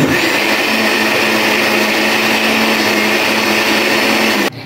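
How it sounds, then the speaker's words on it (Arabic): A blender runs at full speed, a loud, steady high-pitched whir churning cake-batter liquids without a break before cutting off at the end. "بعد ما ضربت السوائل حلو قوي في الخلاط"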